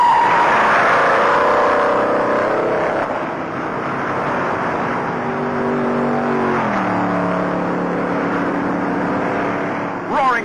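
Many NASCAR race cars roaring past at around 150 miles an hour, a loud sustained engine drone that sweeps down in pitch as the pack passes, with announcer talk over it.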